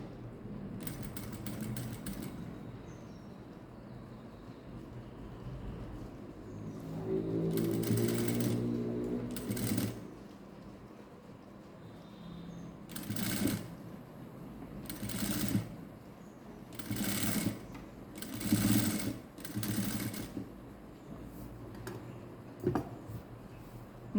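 A sewing machine stitches fabric in a series of short, rhythmic mechanical whirring runs separated by pauses, close and fairly quiet, with one longer lower-pitched run near the start.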